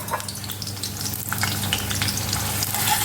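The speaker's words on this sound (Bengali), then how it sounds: "তেলটা গরম হয়ে গেছে। আমি পেঁয়াজটা তেলের মধ্যে দিয়ে দিলাম।" Onion sizzles and fries in hot soybean oil in a kadai, a steady crackling hiss with sputtering pops as it is stirred, close and continuous.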